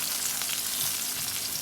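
Chicken chunks spread apart in a hot pan for a simple stir fry, frying with a steady, close hiss of sizzling oil and no talk.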